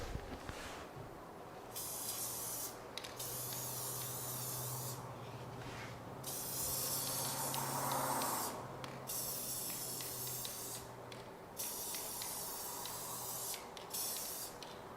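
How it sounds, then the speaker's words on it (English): An aerosol can sprays in a few long, steady hissing bursts separated by short pauses, fairly quiet and close. "Make sure this is nice and shaken up. Time to spray it again."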